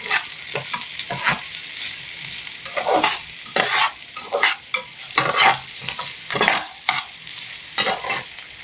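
Potato samosa filling frying in a pan, with a soft sizzle broken by frequent irregular scrapes and clatters of a spatula stirring it, close and alone.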